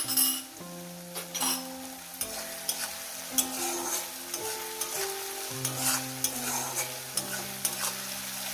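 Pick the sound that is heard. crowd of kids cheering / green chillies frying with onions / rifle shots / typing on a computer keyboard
green chillies frying with onions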